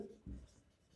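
A teacher writes on a board during a physics lesson: a couple of short, faint scratchy strokes in a quiet room.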